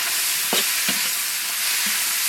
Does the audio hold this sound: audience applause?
no